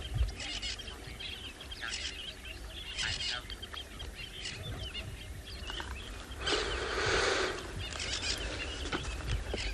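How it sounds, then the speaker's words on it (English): An African fish eagle calls on a morning safari in South Africa, its high ringing cries faint and distant, with one louder burst partway through, over a soft outdoor background. "you love such a sound coming from the fish eagle"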